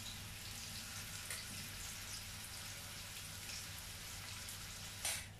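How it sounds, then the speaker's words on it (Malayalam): Prawns frying in oil in a pan, a faint continuous sizzle and crackle with a brief louder spatter near the end. "നമ്മുടെ ഈ ചെമ്മീൻ എണ്ണയിലേക്ക് ഇട്ട് കൊടുക്കുക. ജസ്റ്റ് ഒന്ന് ഫ്രൈ ചെയ്ത് എടുത്താൽ മതി."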